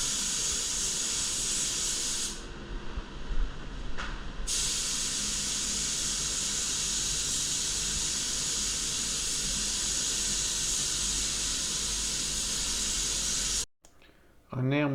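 A spray gun lays wet-on-wet primer over a Barra rocker cover from an FG Falcon, a steady, loud hiss running almost unbroken for most of the stretch before cutting off near the end.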